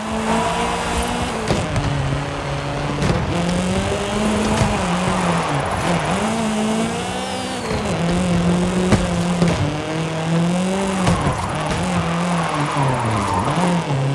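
A modified Sprinter van drifts down a runway in Forza Horizon 5, its engine droning loud and close with revs rising and falling between repeated tire squeals.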